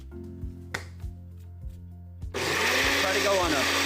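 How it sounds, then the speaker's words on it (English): A blender roars to high speed as a smoothie with strawberries and protein powder is pureed, preceded by a few soft knocks and clicks as the jar is set in place. "Put it back in the blender."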